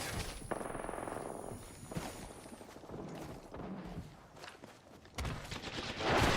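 Gunfire in the video game Apex Legends, with rapid bursts of shots and impacts crackling through a busy firefight, close and fairly loud, with a heavier volley near the end.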